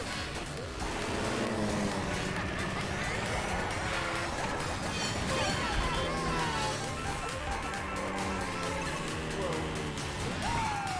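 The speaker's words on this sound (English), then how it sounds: "A lot of cars out here today." Cars race along a byway track in a kart racing video game, engines droning and whining in overlapping pitches with occasional swooping tones, steady and moderately quiet.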